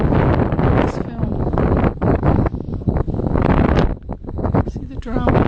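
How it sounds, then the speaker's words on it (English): Strong wind gusts roar across an open microphone at Edfu Temple, a loud, continuous buffeting rumble that swells and dips over several seconds. "Strong wind, which you can probably hear in this film."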